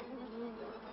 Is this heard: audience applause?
no